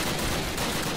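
Sustained dense gunfire from Call of Duty while AI teammates shoot, a loud continuous rattle filling the whole moment with no break and no talk.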